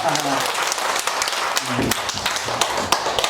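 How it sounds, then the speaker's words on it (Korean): A group of people clap together in a brief burst of scattered applause, with voices talking over it. "잘했다고 박수 한번 치세요"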